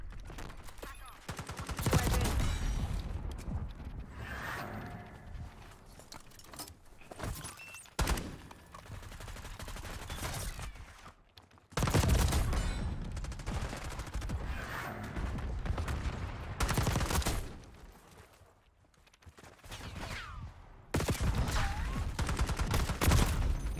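Rapid bursts of video game gunfire, loud fusillades and machine-gun volleys coming in several long stretches separated by brief pauses.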